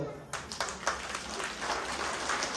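An audience of women at a haldi-kunku gathering during a Home Minister game event claps in a scattered, moderate burst that starts after a short pause and continues under faint background voices.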